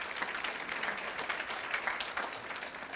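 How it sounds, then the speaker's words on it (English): An audience claps steadily in a civic State of the State gathering in Torrance, California, a dense, even round of applause that holds for the whole stretch without a voice over it. "let's give Ms. Cunningham a round of applause for doing such a phenomenal job today"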